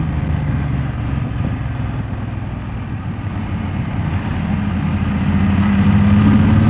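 A 2020 BMW F750 GS parallel-twin motorcycle engine drones steadily while riding, a low continuous hum with a tonal whine creeping up in pitch and growing slightly louder toward the end, with wind rumble underneath and no talking.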